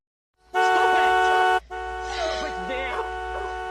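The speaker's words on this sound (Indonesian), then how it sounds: "dia pun langsung membunyikan klakson mobilnya berkali-kali" A car horn from a film scene honks in loud, sustained blasts, the first long and steady, then a second stretch continuing under overlapping speech.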